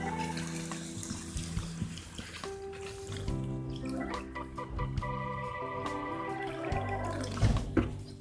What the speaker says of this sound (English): So I will be adding water to it.